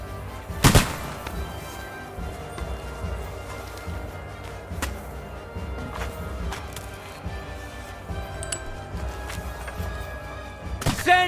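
Gunfire in a role-playing video game: a few sharp, isolated bangs spaced several seconds apart, the loudest near the start and end, over a steady low ambient rumble with no talking.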